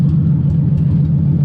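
A car engine idles steadily close by, a low even rumble with a faint pulsing rhythm, in a car whose power steering is being repaired, with no voices over it.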